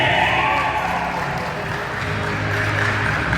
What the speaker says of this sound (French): je vous prie de vous mettre debout pour applaudir Monsieur et Madame Stevenson Saint-Hilaire